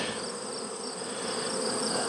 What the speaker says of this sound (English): So I've been shaking these bees out here